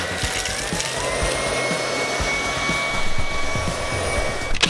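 An LG CordZero R9 ThinQ robot vacuum cleaner runs steadily at close range, a constant whirring suction hum with faint bumps and rattles as it cleans, nobody speaking.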